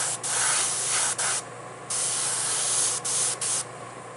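An airbrush sprays paint in a steady close hiss, cut by a few brief pauses as the trigger is released and pressed again.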